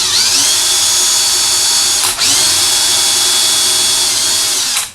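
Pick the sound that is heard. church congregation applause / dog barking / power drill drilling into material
power drill drilling into material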